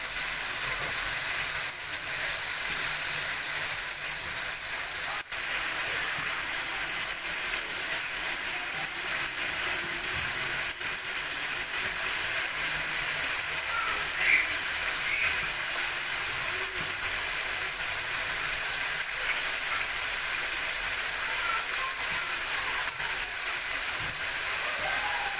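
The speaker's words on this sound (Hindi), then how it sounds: "ये मसाला हो रहा है फ्राई।" Spice masala for kachnar gosht, a dish of bauhinia buds and meat, fries steadily in a pan, giving a continuous close sizzle and hiss with occasional small pops and no talking.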